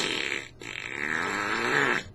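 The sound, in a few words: voice imitating fart sounds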